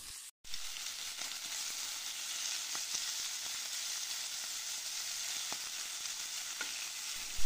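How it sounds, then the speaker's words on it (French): Pieces of meat sizzle and fry in a pan over high heat, a steady close crackling hiss with small pops that runs alone for the whole stretch after a brief cut near the start. "dans la même poêle, je vais faire revenir aussi les morceaux de viande"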